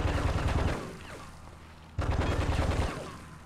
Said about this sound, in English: You have to aim at her when she's shooting at you.